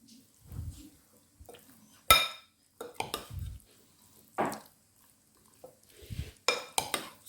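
A chicken marinade of cornflour, flour, egg and spices is mixed in a bowl, with intermittent clinks and scrapes of a utensil against the dish separated by quiet gaps, close and fairly soft.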